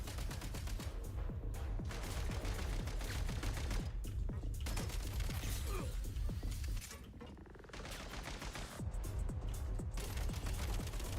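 Rapid gunfire from the player's weapon in Genshin Impact rattles along in a quick, continuous stream over a thumping game soundtrack, fairly quiet overall, with a brief dip near the middle before the firing resumes.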